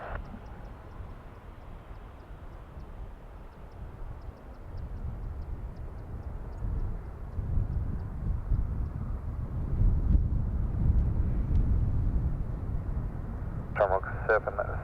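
A plane takes off at Dublin Airport. The low roar swells from a distant rumble to a louder, broader rush, with wind noise on the microphone and a brief radio voice at the end.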